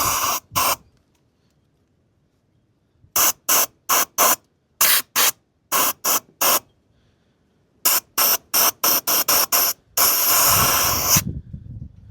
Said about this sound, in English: let's go ahead and get some air in that cylinder and dust it out